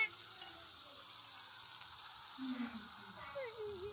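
A ground paste of cumin, garlic, green chili and coriander fries in a pan for horse gram soup, giving a soft, continuous sizzle with a few faint scraping stirs.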